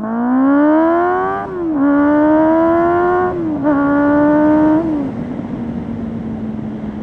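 A motorcycle engine revs loud and close in three rising pulls with brief drops between them, then falls back to a steady idle, with no talking.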